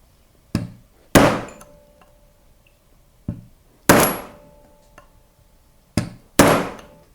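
A hammer stakes a rifle castle nut on both sides, striking metal with six sharp ringing blows that come in pairs, loud and close with short decays and silence between them.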